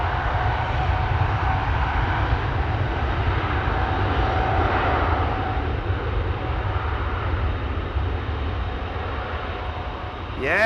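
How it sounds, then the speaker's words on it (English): A Cathay Pacific Cargo Boeing 747-8, thirteen years old, departs Amsterdam Schiphol for Frankfurt with a loud sustained jet engine roar and a deep rumble, heard steady and close throughout. "Only a short flight of this Cathay Pacific Cargo 7478 to Frankfurt"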